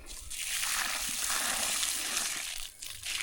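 Water is splashed from a container onto a vine outdoors, a soft, close rushing and spattering that lasts a few seconds with a brief dip near the end.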